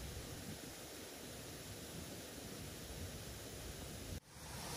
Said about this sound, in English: I don't know if you can hear me because waterfall's there